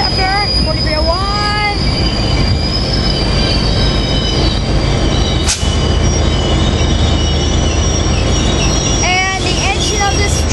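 A southbound Coaster commuter train pulls in on a sunny downtown San Diego line, loud and close, with continuous rumbling and repeated high wheel squeals, one sharp burst mid-way and more squealing near the end.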